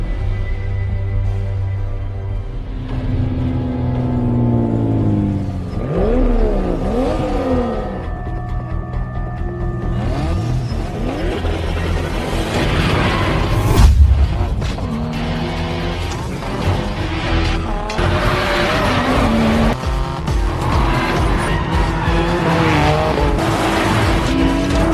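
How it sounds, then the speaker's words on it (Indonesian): Cars racing down a mountain road at night in a film, with engines revving and roaring and tires squealing and skidding through the turns, loud and continuous throughout. "Setelah Takeshi muncul, balapan pun dimulai."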